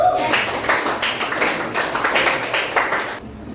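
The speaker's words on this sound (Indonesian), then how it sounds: "Tepuk tangan buat." Students in an Indonesian classroom clap together, a quick run of rhythmic, fairly even claps from a small group, close and moderate in level, stopping abruptly near the end.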